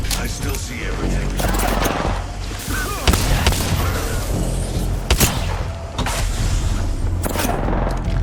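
An R99 submachine gun in the Apex Legends video game fires short bursts amid booming thuds and dense in-game battle noise, with loud sharp cracks standing out around the middle and late in the clip.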